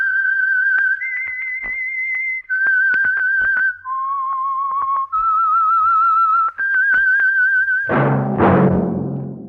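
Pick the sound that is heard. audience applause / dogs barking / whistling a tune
whistling a tune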